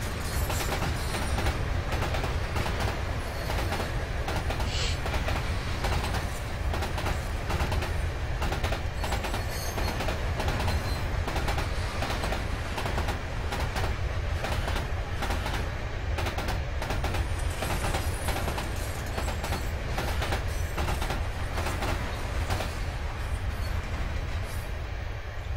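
A freight train rolls past at Sherman Hill in Train Simulator 2016, a steady dense rumble with rail clatter holding at close range throughout, with no talking.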